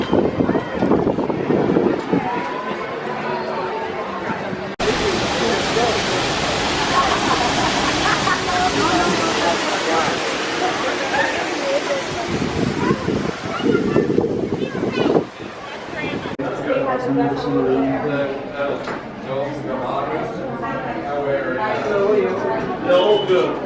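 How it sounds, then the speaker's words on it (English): Strong wind buffets the microphone outdoors at EPCOT, a loud, roaring rush of noise over most of the stretch, with people talking nearby under and between the gusts. "It's crazy windy right now."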